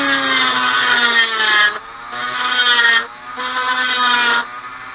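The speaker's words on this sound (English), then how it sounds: "Now to drill a hole, do not go straight through." A power drill whines in three bursts, each several seconds long with short pauses between, the motor pitch shifting under load as it bores a hole at an angle.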